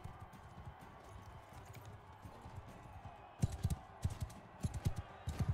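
Horse hooves clip-clop in Mount & Blade II: Bannerlord, a steady run of loud hoofbeats starting about halfway through over a low rumbling game background.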